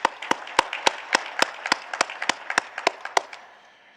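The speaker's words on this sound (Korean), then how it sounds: "있는 곳에서 우리 하나님께 감사의 박수를 올려드리겠습니다." A church congregation at a New Year's Eve service claps in thanks to God, a sparse run of distinct, sharp claps in loose rhythm, close and fairly clear, fading out toward the end.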